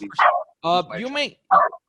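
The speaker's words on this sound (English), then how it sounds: "All the dogs jumping and everything." Several dogs bark and yip in short bursts, loud and close, with a pause between volleys amid excited jumping.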